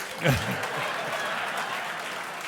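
Audience applause at an on-stage interview, a steady broadband wash of clapping that swells briefly near the start and then holds fairly even, with a voice speaking over it.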